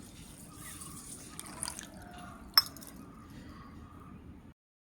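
A cup of water is poured into a vessel of soaking aliv seeds for payasam. Faint trickling and dripping are heard, with one sharp clink of the cup partway through, before everything falls silent.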